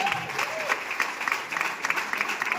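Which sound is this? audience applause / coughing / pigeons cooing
audience applause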